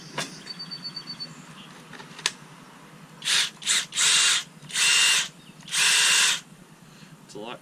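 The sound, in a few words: Kobalt XTR cordless impact driver running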